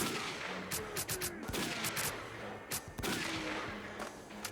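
Enemy gunfire in STALKER: Call of Pripyat, scattered sharp reports and short bursts spread through a few seconds, fairly distant and quiet against a steady ambient background.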